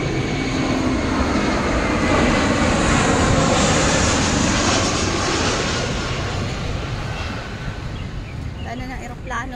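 An airplane passes overhead above a rose garden in Taipei, a loud, continuous roar that holds for several seconds before slowly easing off.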